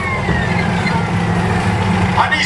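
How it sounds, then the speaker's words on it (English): A siren on an M4A4 Sherman tank with a diesel engine, at a tank show at the Bovington Tank Museum, gives a falling wail over the loud, constant rumble of the running engine. "And he's got a siren"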